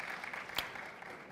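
Audience clapping after a banking panel discussion, a steady moderate wash of many hands with one sharper clap standing out midway, heard at some distance in a hall.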